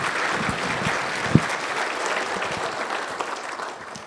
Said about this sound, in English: Give him a round of applause, Del.